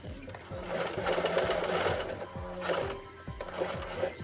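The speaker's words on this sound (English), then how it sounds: "start sewing this side" Sewing machine stitching a washable cloth face mask, running in a steady near rhythm with short pauses and restarts between bursts.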